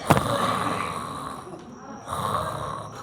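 A voice imitating snoring with a raspy, throaty breath sound, a sharp onset followed by a drawn-out rasp, then a second rasping breath after a short pause.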